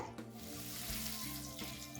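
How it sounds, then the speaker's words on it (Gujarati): Ginger chilli paste sautés in two spoons of hot oil for a Mumbai street-style spring dosa, a steady close sizzle with a couple of brief stirring knocks, no voices. "હવે એમાં એક ચમચી આદુ મરચાંની પેસ્ટ એડ કરીએ છે અને એને સાતળી લઈએ છે"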